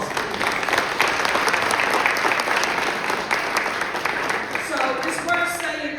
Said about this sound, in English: Give that a round of applause, please.